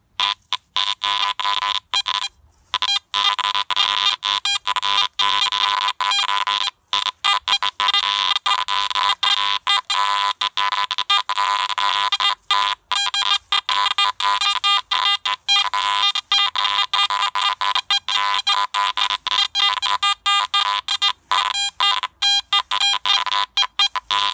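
A Garrett AT MAX metal detector with iron audio on emits a continuous stream of rapid, choppy electronic tones over ground full of iron, stuttering and flickering without pause throughout.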